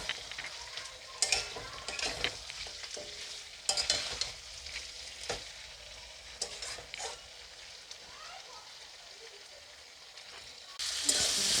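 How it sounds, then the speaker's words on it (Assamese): Chicken meat and small potatoes fry and sizzle in a pan for a chicken curry, a steady close sizzle broken by scrapes and clinks of stirring throughout. "মই এতিয়া মাংসখিনি ফ্ৰাই কৰি অলপ পানী দি দিছোঁ সিদ্ধ হ'বৰ কাৰণে।"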